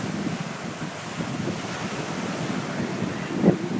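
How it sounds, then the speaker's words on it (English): Rough ocean surf rolls in at Reeds Beach, New Jersey, in the aftermath of Hurricane Sandy, a steady roar of waves mixed with gusting wind buffeting the microphone and one brief louder bump near the end. "The water's pretty rough today."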